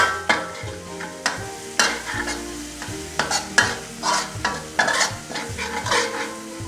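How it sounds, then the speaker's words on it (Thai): Ingredients stir-fried in oil in a wok until golden while making Thai oyster-sauce kale. A spatula clatters and scrapes in irregular knocks over a constant sizzle, close up, with no talking. "เอาให้เหลืองเลยครับ เดี๋ยวเราเจียวไปแป๊บหนึ่งนะครับ"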